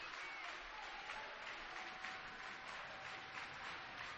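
Crowd cheering and applause filling a gym at a high school girls regional basketball game between Argos and Bethany Christian, a steady distant roar heard faintly without a break.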